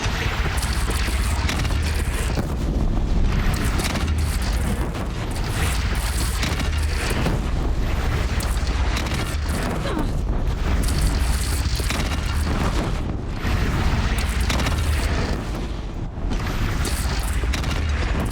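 Dense, continuous roar of booming cannon blasts and rumbling gunfire-like explosions from a battle in Horizon Zero Dawn, loud throughout with no pauses.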